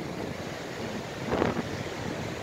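Surf washes over Khe Hai beach in Bình Sơn, Quảng Ngãi, a steady windy roar that swells briefly midway as a wave breaks.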